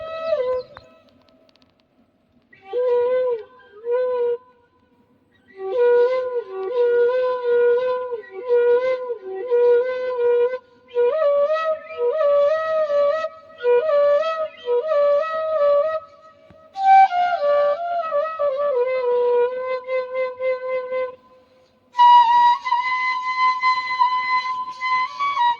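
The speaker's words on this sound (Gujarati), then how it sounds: "સાંભળો મોરલીના સૂર" A morli, the snake-charmer's flute, played in a recording studio gives sustained, nasal melodic phrases with a steady drone beneath. It plays solo in bursts separated by short pauses, clean and close.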